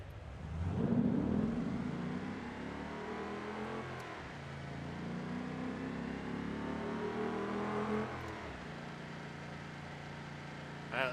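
Simulated car engine in BeamNG revving up hard at launch, rising and falling pitch sweeps with a gear change around the middle, loud and continuous throughout.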